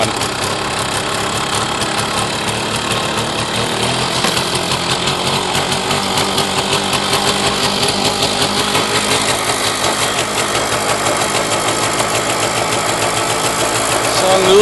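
A Puch MS 50 moped engine idles slightly high, a loud close two-stroke putter with a fast, steady rhythmic knock that runs continuously without pause.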